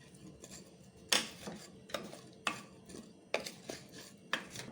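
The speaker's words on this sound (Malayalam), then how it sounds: "നല്ലോണം ഒന്ന് മിക്സ് ചെയ്ത് കൊടുത്തിട്ടുണ്ട്" Salt, turmeric and chili powder being stirred into tubers cooking in a pot for Thiruvathira puzhukku, with about five sharp spoon-on-pot knocks and scrapes spaced through the stretch over a quiet kitchen background.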